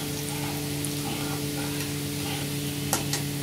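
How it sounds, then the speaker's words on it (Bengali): Garlic fries in a pan with a continuous close sizzle and a low steady hum, with a couple of brief sharper crackles near the end. "রসুনটা এভাবে ভেজে নিতে হবে।"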